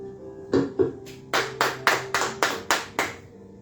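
Congregation at a church service clapping in a steady rhythm, about ten loud sharp claps at a regular beat, starting hesitantly before settling into unison.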